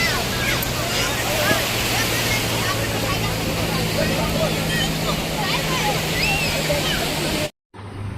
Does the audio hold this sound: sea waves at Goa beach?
yes